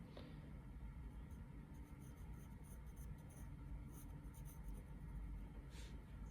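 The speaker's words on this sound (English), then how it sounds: "So I'm going to start drawing that triangle in." A pencil scratches steadily across paper while a triangle is drawn, making a faint, continuous, close-up scraping sound with soft strokes and no pauses.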